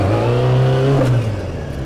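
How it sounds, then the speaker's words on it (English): A vehicle engine revs loudly and close with a steady droning pitch that sags slightly toward the end, heard during staggered wheelies. "Trying some staggered wheelies."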